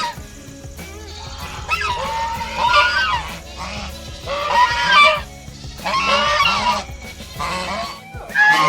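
Red-faced muscovy ducks, a mute species, hissing up close in an aviary, with repeated breathy, raspy bursts in an uneven rhythm over faint background noise.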